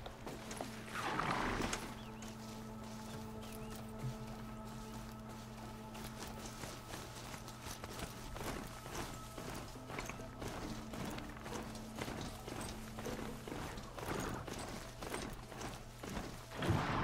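Horse hooves clip-clop at a steady walking pace in the Horizon Zero Dawn video game, moderately loud over a constant droning game ambience with tonal music layers and no speech.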